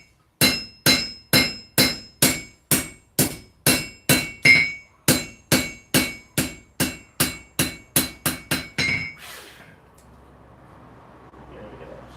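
A hammer forges a Bowie knife in about twenty sharp, evenly spaced ringing blows, loud and close. The strikes stop near the end and leave only a low background hum.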